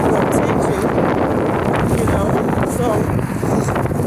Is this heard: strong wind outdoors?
yes